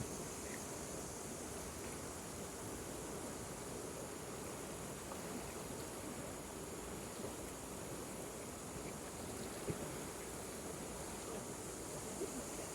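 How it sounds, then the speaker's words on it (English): River water flows steadily nearby, a dense, even rushing that continues unchanged throughout with no voices. "Listen to the water."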